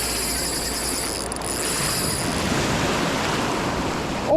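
Waves wash against a rocky Michigan shore in a steady, fairly loud surf rush, heard alone and near, with wind noise mixed in.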